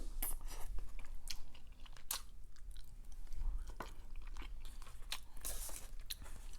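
Crunchy Korean fried spicy wings chewed close up, with repeated crisp crunches and biting in an irregular rhythm, loud and alone with no talking.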